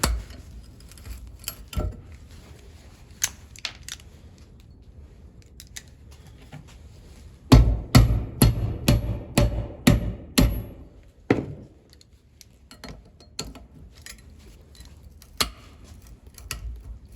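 A hammer pounds a bushing out of an International Harvester tractor steering part, with scattered single metallic knocks followed by a burst of rapid sharp blows in a workshop, then a few more spaced hits.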